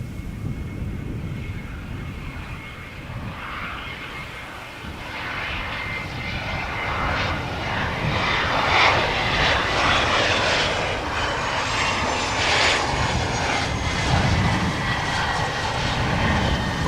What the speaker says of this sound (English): Very cool bizjet.